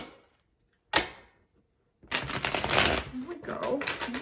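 A deck of tarot cards is shuffled up close. A sharp snap comes first, then a longer riffling, rustling shuffle, and a voice talks partway through.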